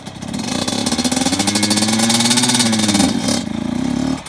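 A Yamaha YZ85 dirt bike engine revs up and holds a high, buzzing pitch, rising loud and close before easing off near the end, with no talk over it.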